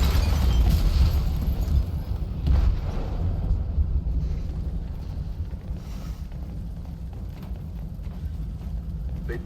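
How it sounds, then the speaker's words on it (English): A bomb detonating in the hold of a ship in Detroit: Become Human, a deep heavy boom at the start followed by a long low rumble and roar that slowly fades, with no voices. "They detonated an explosive in the hold."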